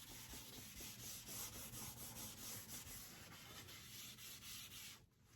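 Steady back-and-forth rubbing of a sanding pad over a painted wooden dresser, rhythmic and close, continuing for several seconds before stopping.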